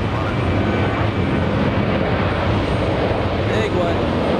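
A Delta Airlines Airbus A330-300 bound for Athens takes off from JFK, its engines a loud, steady broadband roar that holds throughout, with voices talking over it.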